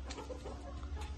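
A rooster clucks in short, low bursts over a rumbling background, close by and fairly faint.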